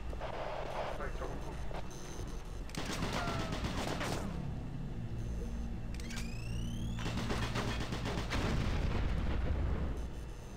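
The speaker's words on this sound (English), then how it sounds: "Who says grenades are hard to throw at things?" Grenade explosions in Doom 3, deep booming blasts at intervals over a steady rumbling game backdrop, with someone talking throughout.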